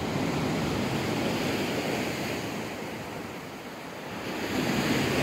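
Sea waves wash onto a sunny winter beach at Massandra in Yalta, a steady broad roar of surf mixed with wind buffeting the microphone, swelling again near the end with no voices.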